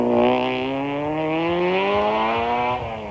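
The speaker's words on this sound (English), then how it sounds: "With the bodywork badly bent, but the engine running, Serge and Vito get their Toyota going" A 1992 Toyota rally car with badly bent bodywork has its engine running as it gets going. The engine gives a close, steady droning note that climbs gradually in pitch before easing off at the end.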